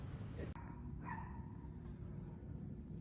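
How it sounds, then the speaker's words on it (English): A dog barks faintly and briefly in the distance among the cave dwellings of Matera, Italy, over a low steady background hum. "aside from the dog barking"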